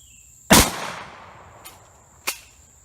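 A Mossberg shotgun fires at a target outdoors: one loud, sharp blast with a long decaying tail, a faint distant crack, then a second shorter report, with no talking.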